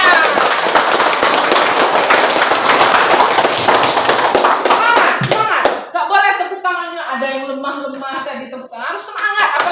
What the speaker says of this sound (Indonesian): Ya, luar biasa, tepuk tangan buat Aziza.